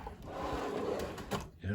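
A drawer on a US General metal tool chest in a workshop slides open with a short rolling rumble and a faint clack at the end, close by.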